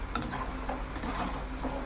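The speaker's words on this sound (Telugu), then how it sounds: "ఇవి సిమ్లో పెట్టి వేయించుకుంటేనే బాగుంటాయి." Flower-shaped sampangi snacks fry gently in oil over a low flame, making a soft, continuous bubbling sizzle with faint ticking pops.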